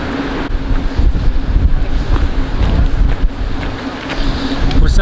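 Strong wind rushes steadily past the microphone on a walk through a forest among trees, a loud continuous roar and buffeting with occasional gusts.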